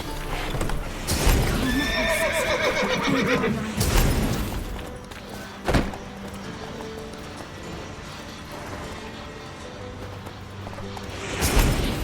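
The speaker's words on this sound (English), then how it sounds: "Gotta calm the horses before they wake the guards." Horses in the video game The Witcher 3 neigh and whinny loudly several times, with hooves clopping in between; a high, shrill whinny returns near the end.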